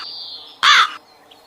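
A crow caws harshly at night in one loud, close burst lasting under half a second, with a faint steady high tone before and after.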